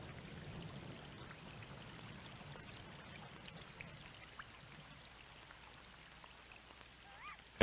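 Steady, soft hiss of rain falling, a constant wash of droplets with faint patters, fading slightly toward the end.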